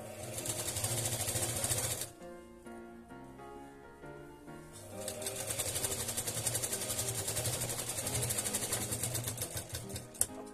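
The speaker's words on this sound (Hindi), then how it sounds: "वैसे ही आपको इसमें सिलाई लगानी है और एक जैसी सिलाई इस पर लगा देनी है।" An electric sewing machine runs in steady, rapid bursts as it stitches a tasseled latkan for a blouse, a loud continuous whir that pauses briefly near the start before resuming, with music-like tonal bands underneath.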